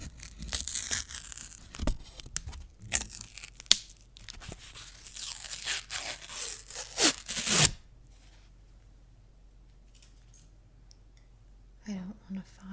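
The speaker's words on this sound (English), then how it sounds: "Just ripping off the top of that." Packaging being ripped open at close range, with crinkly tearing and crunching bursts for several seconds before the sound stops and a quiet hush follows, ending in a faint soft voice.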